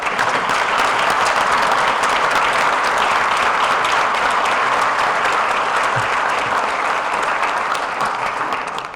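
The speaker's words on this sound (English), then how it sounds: "Let's give them a little bit of applause." An audience applauds at a foundation recognition ceremony honoring local figures in Batavia, a dense, steady wash of many hands clapping that holds loud throughout and eases slightly at the very end.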